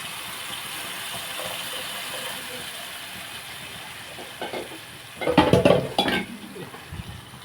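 Tamarind water poured into a hot pan for an egg curry sets off a sudden burst of loud sizzling and spattering after a quieter stretch of low frying hiss, then fades.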